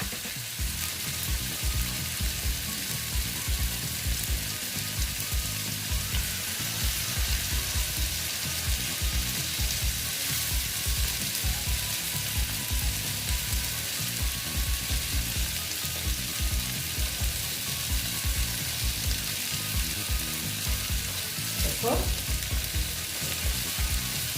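Egg frying in a hot pan while cooking jackfruit curry, a steady dense sizzle throughout with faint stirring scrapes and a brief clink near the end.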